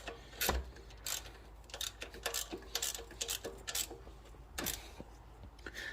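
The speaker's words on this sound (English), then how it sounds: "make sure you get their 14mm socket to tighten up this bolt up here" Ratchet with a 14mm socket tightening a vehicle bolt, producing rapid irregular clicking in short runs, fairly faint and close, with a few louder knocks in between.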